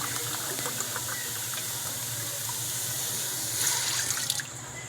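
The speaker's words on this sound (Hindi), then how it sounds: "ये पहले पानी डालूँगी" Water poured steadily into a pot of Sindhi beef biryani, a continuous splashing flow for several seconds that swells briefly near the end before easing off.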